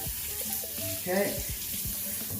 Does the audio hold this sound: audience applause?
no